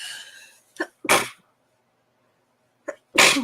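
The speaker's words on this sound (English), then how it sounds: "Excuse me, I'm going to sneeze." Two sharp sneezes, each preceded by a short sharp intake of breath, separated by a quiet pause; a brief murmur of voice comes before the first.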